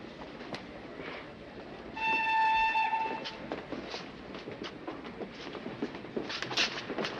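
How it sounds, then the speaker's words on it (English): A steam-era passenger train pulling out of a station, with a steady rumble of carriages and rail noise and a short, loud whistle burst partway through, set against a busy platform background. "But your train's going."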